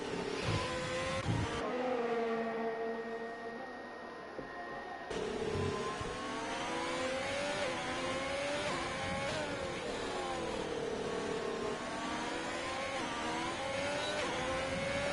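Racing cars in an F1 video game at Zandvoort accelerate back to full speed after a virtual safety car period, with high-pitched engines whining and shifting up and down continuously, several cars close together.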